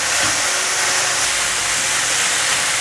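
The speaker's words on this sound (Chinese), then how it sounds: "把所有调味料炒匀。" Dried tofu and beech mushrooms stir-fry in a wok with soy sauce, rose salt, white and black pepper and sugar, giving a steady, close, unbroken hiss with no voices.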